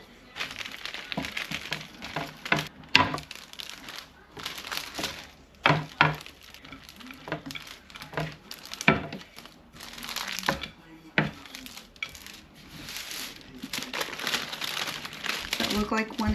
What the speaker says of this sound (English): And then to fold over your parchment and roll it out.